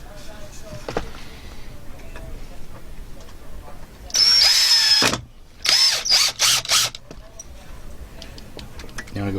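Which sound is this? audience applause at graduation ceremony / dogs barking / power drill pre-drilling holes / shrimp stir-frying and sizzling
power drill pre-drilling holes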